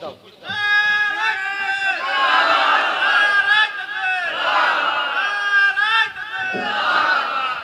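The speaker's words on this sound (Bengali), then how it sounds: "বড় করে তাকবীর দাও" A large crowd at a Bengali Islamic jalsa loudly shouts the takbir in unison, repeated swelling chants of many voices that rise and fall in waves.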